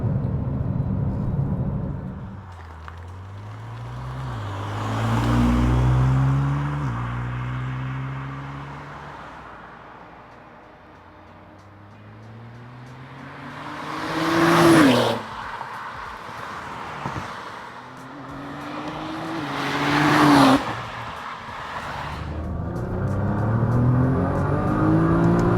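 A Nissan GT-R NISMO N Attack engine revs up repeatedly, rising in pitch through the gears, with sharp dips between surges as it shifts down and accelerates hard, loud and close.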